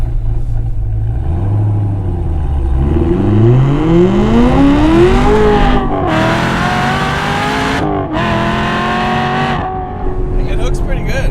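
Hennessey 1000 hp Camaro ZL1 1LE launching from a dig: a loud engine roars and climbs through several hard upshifts, with brief breaks between gears, close to the listener and continuous for the whole stretch.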